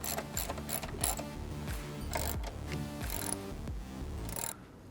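A ratchet wrench clicks rapidly and repeatedly, close up, while tightening bolts to secure a bracket on a Jeep JK during a soft-top installation, the ratcheting continuing in quick runs for several seconds before stopping.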